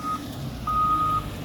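A truck reverses at a coal loading site, backing toward a ramp while its backup alarm gives a short beep and then a long steady one. The alarm sounds clear and moderately loud over a low engine rumble, with no talking.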